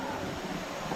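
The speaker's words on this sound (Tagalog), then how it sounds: "Kung maririnig nyo yung tunog ng ilog nila." A river flows steadily through a rainforest park in Marilog District, Davao City, giving a constant, fairly loud broadband rush with no voices.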